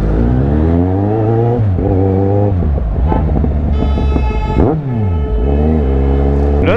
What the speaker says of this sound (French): on est en moto.